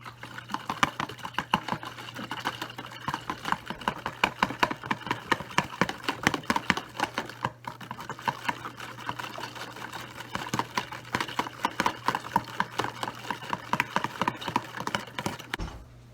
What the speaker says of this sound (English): And we're going to whisk that together until it's smooth.